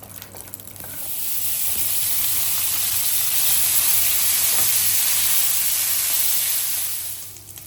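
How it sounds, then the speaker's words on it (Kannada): Cashews fry in ghee in a pan for carrot halwa, giving a steady, close, loud sizzle that swells in after a second and holds evenly before easing off at the end. "ಗೋಡಂಬಿ ಕೆಂಪು ಸ್ವಲ್ಪ ಚೆನ್ನಾಗಿ ಫ್ರೈ ಆಗಿ"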